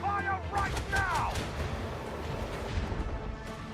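Right-side starship cannons fire in the Rogue Trader space battle against a Dark Elf ship in a nebula, a quick burst of blasts and crashing impacts up front, then a low rumbling tail.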